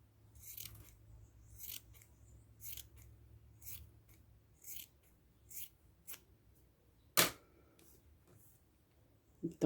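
Scissors snip through fabric during home sewing work near a Singer Facilita machine, a series of soft, crisp cuts repeating about every half second, followed by a sharp clack and a final snip.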